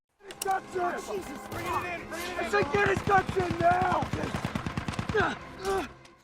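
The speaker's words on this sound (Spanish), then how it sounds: "Ese hombre está recibiendo disparos del enemigo, que tiene armas de alta velocidad" Rapid bursts of high-velocity automatic gunfire crackle under raised, shouting voices in a battle scene, the shots coming in fast repeated volleys amid chaos.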